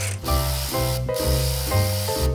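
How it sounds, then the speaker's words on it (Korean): A high-torque impact wrench tightens the tension bolt on a Yanmar combine, sounding as three loud, close bursts of whirring motor with short breaks between them. "하이토크 임팩을 사용하겠습니다."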